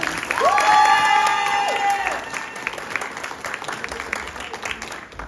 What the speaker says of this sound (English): A round of applause to the irresistibly intelligent Doctora.